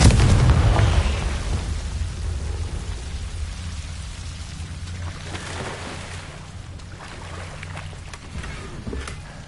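Confringo fire spell blasts in the video game Hogwarts Legacy: a loud booming burst at the start fading into a crackling, rumbling tail, with further softer impacts and crackles later on, no talking.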